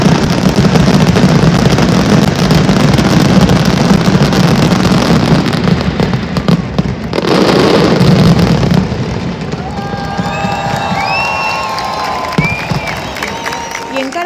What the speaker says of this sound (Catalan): la Mascletà es caracteritza pel terratrèmol final